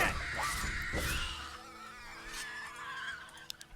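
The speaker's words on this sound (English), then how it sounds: "Anyways, more birds." Crows cawing in the fantasy game Risen, a run of harsh calls in the first seconds then scattered fainter caws over a steady ambient background.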